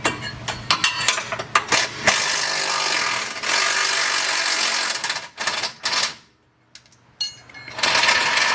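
Ratcheting and clanking of a wrench refitting a bolt during prep work on a Subaru BRZ, with repeated close mechanical clicks and scrapes, a loud steady stretch, a brief pause, then more clatter.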